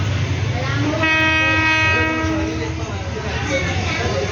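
A loud, sustained train horn blares for about two seconds over the rumble of a train arriving at Wongwian Yai station, Bangkok, while a voice talks nearby.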